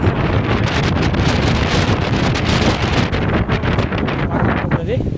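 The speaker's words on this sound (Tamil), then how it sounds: "அந்த காற்று தாங்க சரியான காற்றாக இருக்குது" Strong wind roars and buffets the microphone nonstop on a 4000-foot hilltop at Kondarangi Malai near Keeranur, a dense, loud rush with no pauses.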